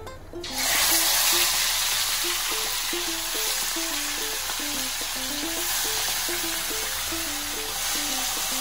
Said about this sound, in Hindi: ये अब जो चिकन है ये हम डाल रहे हैं, तेल गरम हो चुका है, मैरिनेटेड वाला चिकन